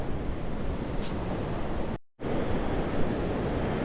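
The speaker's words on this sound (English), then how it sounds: "the ocean is rough" Rough ocean surf at Topsail Beach rolls in as a steady, loud wash of breaking waves, mixed with wind buffeting the microphone and a brief dropout midway.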